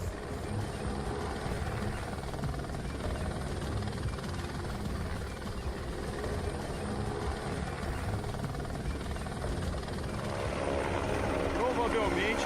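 A helicopter hovers over a muddy disaster site during a body recovery, its rotor and engine drone loud and continuous throughout, with a voice speaking over the noise.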